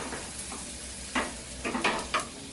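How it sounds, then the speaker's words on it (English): Butter sizzles in a hot pan for crêpes, a steady quiet frying hiss with a few brief louder bursts of crackle and stirring near the end. "once the pan is hot, I'm going to add a scoop with the butter"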